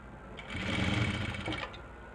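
A sewing machine stitches pleats into a salwar, a brief close run of rapid mechanical stitching that starts, holds steady for about a second, then stops.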